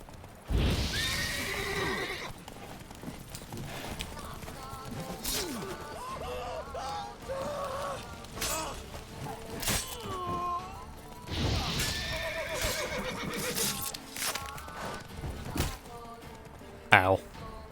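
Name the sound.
horse neighing and hooves in The Witcher video game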